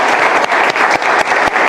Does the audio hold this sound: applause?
yes